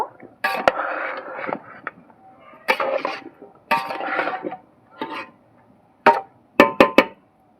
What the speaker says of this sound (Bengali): বিট নুন দিয়ে ভালো করে আমটা মিশিয়ে নেব